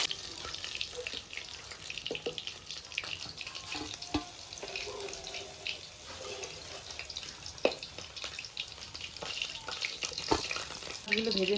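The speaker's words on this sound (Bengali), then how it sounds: "এগুলো ভেজে নিচ্ছি আমি।" Fish sizzles and spits in hot oil in a pan while being fried for a mustard-poppy seed fish curry, a continuous bright crackling hiss with scattered pops and clinks, and occasional light talk underneath.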